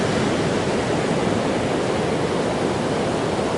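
Ocean surf at Stinson Beach rushes in a loud, continuous broadband roar of breaking waves, steady throughout with no voices.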